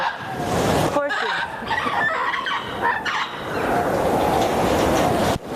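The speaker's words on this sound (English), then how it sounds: "you can hear the gibbon singing" A gibbon sings at a zoo rescue park, its whooping calls rising and falling in a loud series, over a dense chorus of birds and steady outdoor noise.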